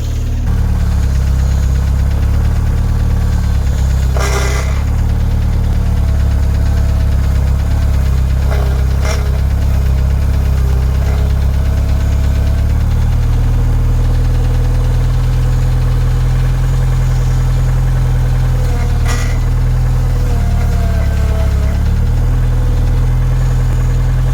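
A 1988 Jeep Comanche's 2.5L engine idles steadily with a loud, constant low drone while the steering wheel is turned, adding a brief whine from the power steering and a few faint clicks partway through.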